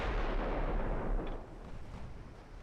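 A battleship's gun salvo in the naval video game Ultimate Admiral Dreadnoughts booms as a deep, loud, rumbling blast that rolls on and slowly fades over a couple of seconds.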